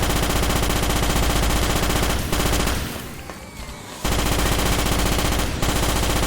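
Rapid automatic gunfire in the Starship Troopers video game, dense and loud, cutting out briefly in the middle before resuming as continuous bursts.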